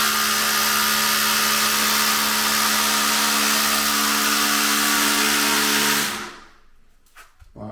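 A DeWalt DCH333MP FlexVolt cordless rotary hammer drills continuously with a loud, steady, hammering whine, then stops abruptly near the end, leaving a few faint knocks.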